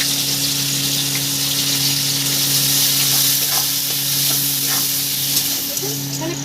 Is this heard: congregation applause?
no